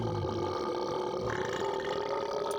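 A long, drawn-out cartoonish burp from a character in the claymation PC game The Neverhood, sustained and tonal throughout, loud and close with no talking over it.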